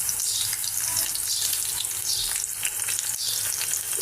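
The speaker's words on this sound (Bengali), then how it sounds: "পেঁয়াজগুলো দিয়ে দিলাম" Chopped onions fry in a pan for chickpea bhuna, a steady close sizzle and crackle with occasional stirring scrapes throughout, no talking.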